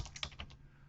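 Quick, light clicks of keys on a computer keyboard, about half a dozen strokes in a fast burst, faint and close, with no voice.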